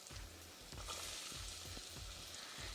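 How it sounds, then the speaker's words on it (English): Onions and peppers sizzling in melted butter in a pan, a faint continuous crackle and hiss with a low rhythmic thumping in the background, quiet and without speech. "my butter is now melted in the pan. So now I'm going to add in my peppers. My onions and peppers."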